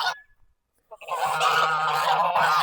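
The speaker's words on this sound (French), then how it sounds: "Regarde les oies, là. Les oies, elles aiment pas les humains." A flock of geese honking, with a brief call at the start, a short pause, then a loud, continuous chorus of overlapping honks close by.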